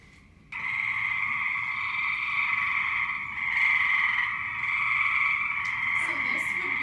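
Chorus of many male frogs calling together at a pond early in the breeding season, a dense continuous croaking drone starting abruptly and staying loud throughout, no speech.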